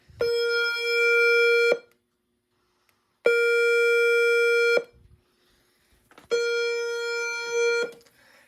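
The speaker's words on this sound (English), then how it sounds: "right now we are playing the second tone, which is just general alarm. I can go ahead and play that." Notifier NFS2-640 fire alarm panel sounding its general alarm tone: three loud, steady electronic buzz-horn blasts about one and a half seconds each, separated by silent gaps.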